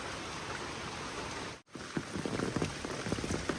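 Steady rain falls on a rural farm, a soft, even patter of drops on surfaces. A brief dropout interrupts it partway through, then the patter resumes with scattered, slightly louder drops.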